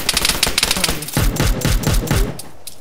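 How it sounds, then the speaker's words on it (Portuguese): Gunfire in the video game Arma 3 battle royale, loud rapid bursts of automatic shots, a dense volley followed by a slower run of heavy cracks. "Caralho, que tiroteio foi esse, mano?"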